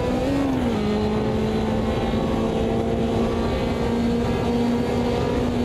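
A Porsche race car engine drones at steady high revs in the Automobilista 2 racing game, a loud sustained whine with one gear change near the start, alone with no speech.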